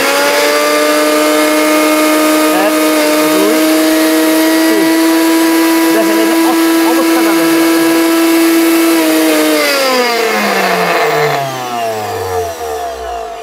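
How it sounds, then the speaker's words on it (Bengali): A Miyako 2000-watt heavy-duty blender runs loud and close with a high, steady motor whine, then winds down as the motor slows and the pitch falls away. "ব্লেন্ডারটা খুবই চমৎকার ভাই।"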